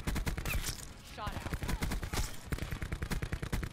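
Rapid bursts of gunfire from Black Ops 4 gameplay, with an assault rifle and an enemy shotgun, crack in a dense, continuous barrage of shots throughout, with a voice faintly mixed in.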